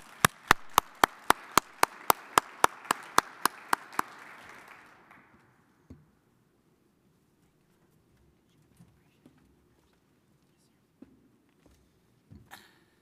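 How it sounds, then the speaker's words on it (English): Applause from a conference audience welcoming a speaker, with sharp, rhythmic claps that fade out over a few seconds, followed by near silence broken by a few faint knocks and shuffles. "Please join me in a round of applause to welcome Principal Deputy Assistant Secretary for Water and Science, Michael Brain."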